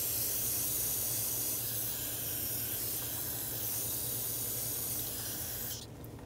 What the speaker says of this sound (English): And we're gonna spray it clean.